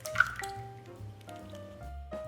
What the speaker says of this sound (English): crack 2 whole eggs into a bowl